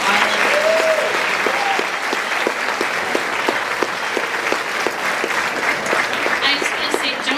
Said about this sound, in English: one round of applause for all of you.